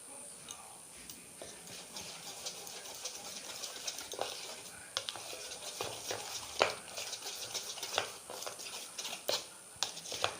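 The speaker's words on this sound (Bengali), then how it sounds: "এবার আমি বেসনটা ভালো করে ফেটিয়ে নেব।" Gram flour (besan) batter seasoned with chili and cumin powder is whisked briskly in a bowl, giving fast, irregular clicking and tapping strokes that are quiet and close.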